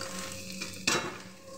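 Fish roe is stirred into fried grated coconut in a pan, giving a steady soft sizzle broken by a sharp scrape or clatter of the spatula midway, with no talking.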